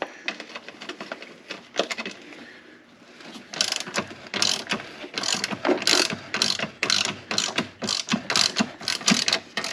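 A ratchet wrench clicks while loosening spark plug area bolts on a 2000 Subaru Impreza 2.5 RS, starting with a few quiet turns, then fast repeated ratcheting bursts up close, with no talking.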